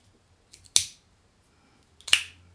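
A stainless steel Zero One EDC 01 fidget slider is flipped twice, each flip a sharp, crisp metallic snap close by with a brief ringing tail, in near silence.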